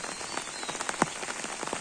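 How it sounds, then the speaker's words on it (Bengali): Heavy morning rain patters steadily on a surface over flooded farm fields, with dense close drops and occasional louder splashes, no voices. "কি বৃষ্টি একদম ক্ষেত খামার ভরে গেছে"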